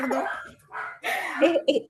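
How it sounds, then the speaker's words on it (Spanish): A dog barks in a few short, sharp bursts near the end, mixed with people talking nearby in a room. "¡Hay un perro!"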